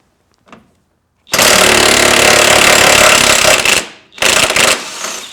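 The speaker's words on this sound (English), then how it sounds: "you can see why I'm so excited about this new DeWalt electric impact" A loud, harsh mechanical rattle from a DeWalt DCF899H cordless brushless impact wrench hammering continuously for a few seconds removing a nut, pausing briefly, then bursting again before trailing off.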